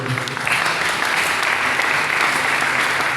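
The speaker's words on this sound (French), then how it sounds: "Est-ce qu'on peut acclamer pour le Seigneur?" A church congregation applauds for the Lord, a loud, dense, sustained wash of clapping from a large crowd, steady for several seconds.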